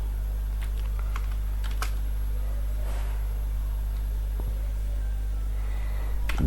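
Code is typed on a computer keyboard in scattered, soft key taps over a constant low hum from a computer fan, fairly faint and without speech.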